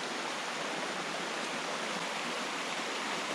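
A mountain river flows in a steady, loud rush of broadband water noise that stays even throughout, with no voices over it.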